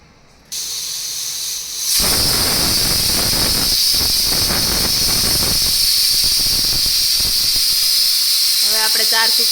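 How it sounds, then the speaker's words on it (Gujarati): A pressure cooker of mung beans lets out a loud, sustained hissing whistle of escaping steam that kicks in after a quiet start and continues steadily to the end, with a few faint tonal clinks near the close. "હવે આપણે 4 સીટી થઈ ગઈ છે તો આપણે કુકરને કરી દઈશું બંધ"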